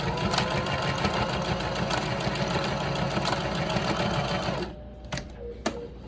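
A sewing machine stitches a fabric wristlet near its swivel hook, a steady rapid mechanical whir for several seconds, then stopping into quieter clicks and handling sounds.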